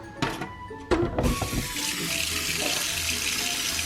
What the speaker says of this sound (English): what I want to do now is get some water